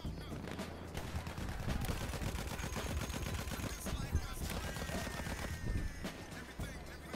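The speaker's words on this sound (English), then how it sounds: "Enemy machine gun sighted." Rapid machine gun fire in the video game Battlefield 1, a dense continuous stream of loud shots and explosions filling the whole stretch, with game sounds layered underneath.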